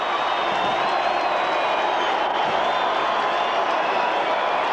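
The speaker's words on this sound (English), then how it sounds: "The crowd go wild here at Lang Park for one of their favourite sons, Mel Meninga." A stadium crowd at Lang Park roars and cheers continuously at a 1991 rugby league test between New Zealand and Australia, a dense, sustained wall of noise with high whistles.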